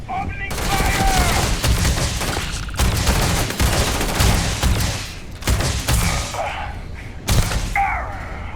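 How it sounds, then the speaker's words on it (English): Heavy sustained gunfire in the video game Starfield, loud bursts of automatic shots in long waves with brief pauses, and a voice calling out briefly between volleys. "Opening fire!"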